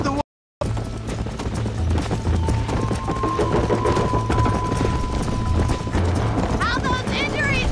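Horse hooves gallop in the Western video game Red Dead Redemption, a steady rhythmic clip-clop that runs throughout beneath a game music score, with a brief dropout near the start and a horse's whinny toward the end.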